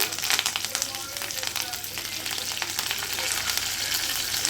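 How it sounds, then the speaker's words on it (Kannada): Curry leaves sizzle in hot coconut oil for a tempering, a dense crackling fry with sharp pops, close and steady throughout with no talk over it. "ಕರ್ಬೇವಿನ ಸೊಪ್ಪು ಹಾಕ್ತಾಯಿದ್ದೀನಿ"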